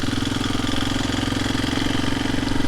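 A four-wheeler ATV engine idles close by, a steady mid-pitched rumble with even, rapid firing pulses and no change in revs.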